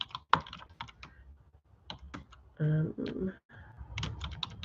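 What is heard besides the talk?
typing on a computer keyboard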